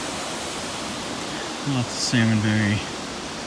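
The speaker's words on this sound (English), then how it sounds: "Big log jam at the head of the waterfall." Waterfall on Plympton Creek, a steady distant rushing roar of falling water filling the background, with someone speaking briefly over it.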